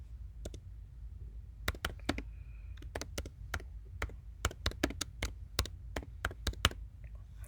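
Keys on a computer keyboard clack in irregular bursts of sharp taps as an album name is typed, close and fairly quiet, with no talking.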